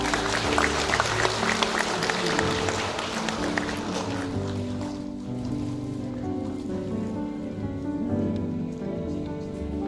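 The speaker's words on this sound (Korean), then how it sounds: "대동 박수 부탁드리겠습니다" Audience at an award ceremony in a small theater hall applauds in a dense, rain-like patter that thins and softens partway through, while background music continues underneath.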